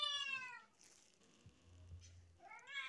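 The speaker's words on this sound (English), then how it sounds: "why are you meowing?" A cat meows twice, a rising drawn-out cry at the start and another at the end, close and clear, with a quieter pause between.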